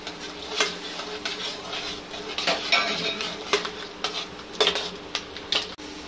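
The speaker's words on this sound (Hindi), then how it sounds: "पहले हम मूंगफली फ्राई करके ले लेंगे" Peanuts frying in hot oil, heard as a soft sizzle beneath repeated metallic clinks and scrapes of a spatula against the pan, close and irregular.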